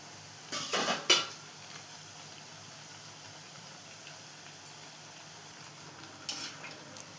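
Masala dal chekkalu frying in hot oil sizzle softly while a utensil scrapes and clinks against the pan as they are turned, giving a few sharp clattering bursts close up over a steady quiet hiss.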